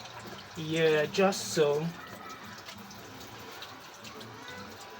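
Tap water runs while hands are washed, a steady faint wash that continues beneath a brief burst of talk near the start.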